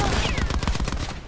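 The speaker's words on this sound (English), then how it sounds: "I'm getting shot at." Rapid automatic gunfire in the Blackout battle royale game, a dense, loud burst of shots rattling close by for just over a second.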